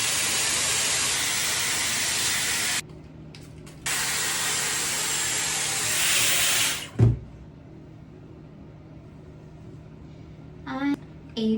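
A Dyson Airwrap hair styler blows hot air on the fan setting at medium heat, giving a loud, steady hiss that cuts out briefly, resumes and then stops with a thump, followed by quieter room sound and brief talk.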